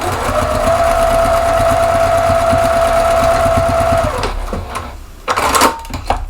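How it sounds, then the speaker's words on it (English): A sewing machine back stitches through soft minky fabric on a heart shape, running in a steady fast whirring hum for about four seconds, then stopping, followed by a few light clicks and handling sounds up close. "I'm going to go ahead and back stitch and get my 4-inch opening in there"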